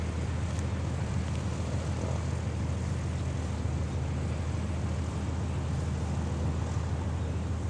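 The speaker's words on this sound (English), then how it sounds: "Thom Richard takes the P-40 onto the runway." A P-40 Warhawk propeller aircraft landing at an airshow produces a steady, droning engine rumble that holds constant for several seconds, with broad wind-like noise on top and no voices.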